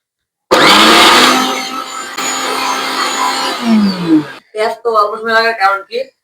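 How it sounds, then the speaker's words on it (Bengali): An electric blender, a high-speed 20,000 RPM model, grinds wet ginger with a little water in a loud, steady whir that runs for about four seconds, then cuts off as a person begins talking. "আদা একদম ব্লেন্ড হয়ে গেছে"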